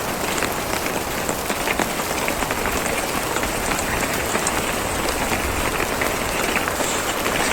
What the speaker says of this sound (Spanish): es otra forma de disfrutar el campamento con la lluvia